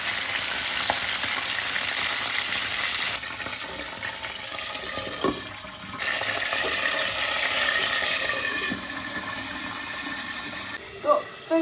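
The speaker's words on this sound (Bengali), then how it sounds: "এখানে এই মাছগুলো ভাজা হয়ে গেছে," Boal fish frying in hot oil, a steady hiss of sizzling with a few soft clinks and scrapes of a utensil in the pan, fairly quiet and close.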